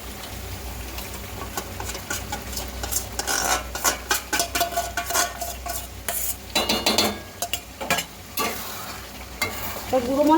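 Ground spices fry in oil in a pan as a spatula stirs them, a close, soft sizzle punctuated by irregular clusters of scraping and clinking metal strokes, with no voices.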